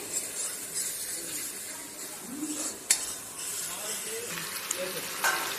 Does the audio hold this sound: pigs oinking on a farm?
no